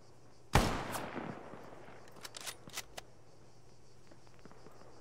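In Arma 3, one loud, sharp sniper-like shot cracks and rings out, then a scattering of fainter distant shots follows over a quiet background.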